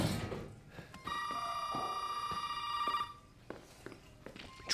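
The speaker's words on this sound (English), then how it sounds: "Why is you calling my phone?" A phone rings repeatedly in Resident Evil 7 Biohazard, a steady electronic trill in bursts that carries on for a few seconds and then cuts off, with faint game ambience around it and no one talking.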